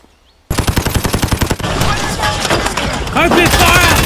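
Machine gun fire in a plastic toy army men stop-motion battle, a loud rapid burst of evenly spaced shots that swells into a dense, layered volley of several guns, with a shouted voice over it.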